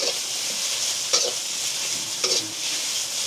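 Thin noodles for pad Thai are stirred in a sizzling pan in a Thai kitchen: a steady frying hiss with two distinct scraping strokes of the utensil, no talking.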